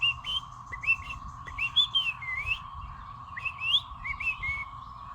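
Birds sing outdoors in short, bright whistled and chirping phrases that repeat every second or so, close and clear, over a steady low hum.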